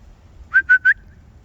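Three short, bright whistled notes in quick succession from a person calling a pet bird outdoors, clear and close with nothing else but quiet background.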